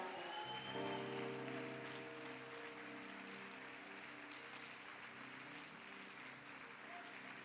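Church congregation applauds to God at the close of a Spanish-language service with pastor Alfonso Lopez, a steady wash of clapping from many hands lasting the whole stretch, with sustained tones from music or voices underneath.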